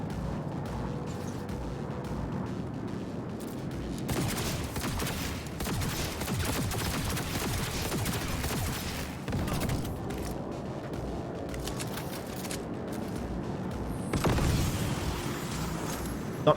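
Rapid bursts of gunfire from a Cyberpunk 2077 firefight rattle on continuously, with denser volleys and a heavier flurry near the end, loud and close with no talk over them.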